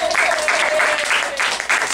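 Audience applause with cheering at a live performance art show in Chicago, dense clapping sustained steadily for about two seconds at close range.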